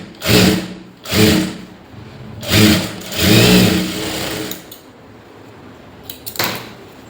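Sewing machine stitching a second seam on a lined blouse sleeve, several short whirring runs of a second or so each, separated by pauses, with a faint click near the end.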